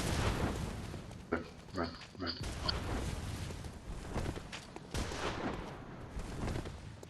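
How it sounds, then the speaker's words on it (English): A Bloodborne enemy sprays rapid gunfire in repeated bursts of sharp cracks and booms over a dense, busy game soundscape, with a voice speaking briefly during it. "He's just spamming bullets left, right and centre"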